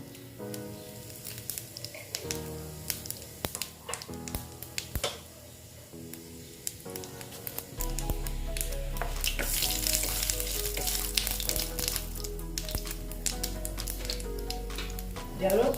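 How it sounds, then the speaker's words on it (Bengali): Whole cumin seeds sizzle in hot oil in a home kitchen: a steady, close frying crackle that thickens into a louder, denser sizzle midway, with tonal background music running underneath. "এখন আবার তেল দিয়ে দিলাম দেখো এখানে গোটা জিরে দিয়ে দিলাম"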